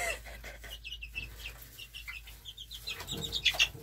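Baby chicks being moved into a new cage cluck and peep softly and fairly close, with scattered rustling and a few sharper chirps toward the end.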